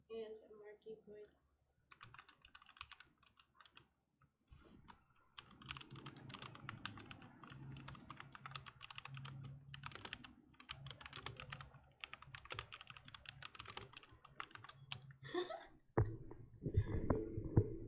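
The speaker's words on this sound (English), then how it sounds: "ASMR keyboard." Irregular bursts of clacking on a computer keyboard, fairly close and quiet, with brief pauses and some breathing or throat sounds mixed in during a casual livestream.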